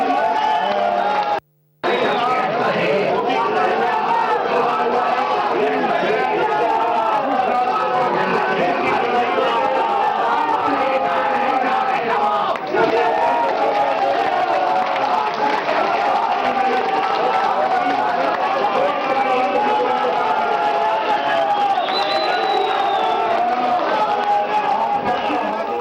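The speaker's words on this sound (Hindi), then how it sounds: "कहीं तालियां बज रही हैं, कहीं जिंदाबाद के नारे हैं और कहीं मुखालफत में नारेबाजी हो रही है" Dense, loud crowd at a PML-N party meeting in Baluchistan, with chanted slogans and clapping mixed into continuous raucous hubbub and shouting throughout, briefly cut off near the start.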